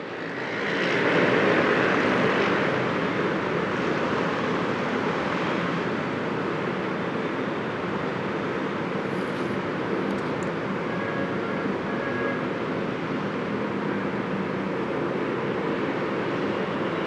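An Emirates Boeing 777-300ER landing, arriving from Dubai at NAIA: a loud, steady jet engine roar sustained for the whole pass, with no talking.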